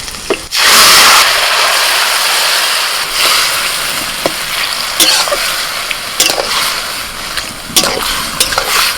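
Boiled pumpkin greens with dried and green chillies hit hot oil tempered with black cumin and radhuni, a loud hiss that settles into a steady sizzle broken by spatula scrapes and clatters.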